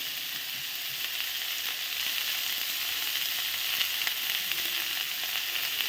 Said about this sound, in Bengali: আলু আর বেগুনটাকে ভালো করে ভেজে নেব।